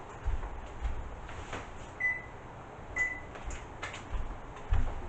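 An oven's control panel gives two short, clear electronic beeps about a second apart while preheat is set to 350 degrees Fahrenheit, heard over quiet kitchen background and a few soft knocks.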